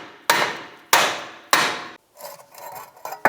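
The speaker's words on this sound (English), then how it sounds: "take a hammer, just give the rotor a tap" Three sharp metallic hammer strikes on a BMW X3 rear brake rotor, about half a second apart, each ringing and decaying, followed by softer scraping and a final light tap.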